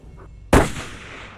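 A single loud, close rifle shot cracks out during a free-range blackbuck antelope hunt in Argentina, with a sharp onset and a long rolling echo fading over the open field.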